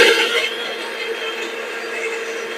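A mixer grinder whirs steadily as it blends banana juice with Anganwadi milk, a continuous motor whine with a fuller start that eases to an even drone, close and fairly loud, with no speech.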